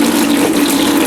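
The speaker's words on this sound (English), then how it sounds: "Hot tap on." A hot water tap gushes at full flow into a bucket, a loud, close, steady rush of water with no pauses or voices.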